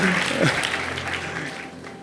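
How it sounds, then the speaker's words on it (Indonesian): A church congregation applauds in a steady, moderately loud wash of hand claps lasting the whole moment, with voices mixed in underneath. "Tepuk tangan buat Tuhan kita, amin."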